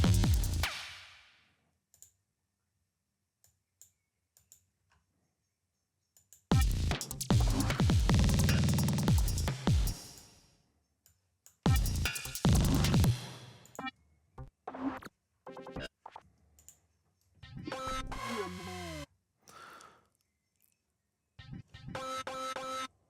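A melody played only on the black keys through Ableton's Meld synth comes in loud, dense bursts separated by near silence, the later notes turning into short, chirpy, pitch-bending blips.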